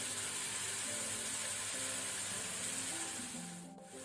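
Onion and ginger frying in a pan for egg bhurji, a steady close sizzle and crackle with a continuous hiss that eases off near the end.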